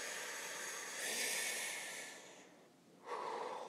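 A person takes a slow, deep breath in, a soft close airy rush that swells and then tapers, with no speech.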